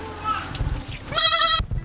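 A Nigerian Dwarf goat gives one loud, close, quavering bleat about half a second long, after a stretch of low handling noise and rustle.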